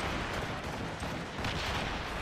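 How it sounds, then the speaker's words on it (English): Ship mortar fire in the naval combat of the video game Assassin's Creed Rogue, a dense, continuous rumble of explosive booms and distant gunfire lasting a couple of seconds, fairly quiet in the mix. "He's still firing mortars at us, I see."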